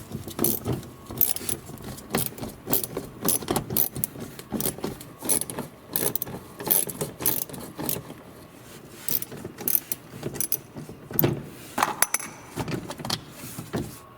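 A 10mm socket on a ratchet works the screws of the plastic under-cover on a Toyota RAV4, producing a long series of close metallic clicks and jangles with irregular pauses.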